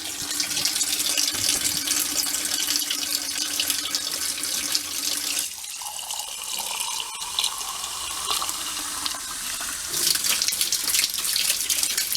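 Tap water runs steadily from a faucet fed through a Vevor 8 kW electric tankless water heater with its breaker switched off, a loud continuous broadband rush that briefly changes tone midway before resuming, with no voices.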